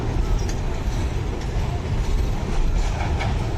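A Cuban train rolls past nearby, a former Russian freight car followed by vintage German Silberling passenger coaches, with a steady rumble and faint rhythmic wheel clicks on the rails.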